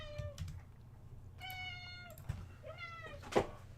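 A cat gives three clear, close meows spread across a few seconds, with a soft knock or thump near the end and a low background hum.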